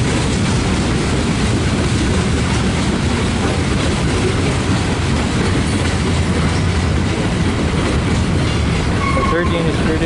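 A freight train hauled by SD40 locomotives rumbles past close and loud, with a continuous heavy roar and clickety-clack of wagons throughout.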